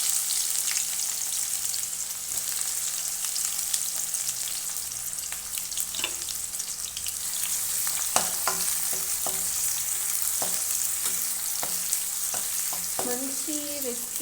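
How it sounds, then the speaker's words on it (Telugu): Finely chopped onions fry in a pan with a steady broadband sizzle, punctuated by several sharp scraping stirs and utensil taps toward the end; nobody speaks. "సో ఇప్పుడు కాసేపు ఆనియన్స్ అనేది బాగా ఫ్రై అవ్వాలి"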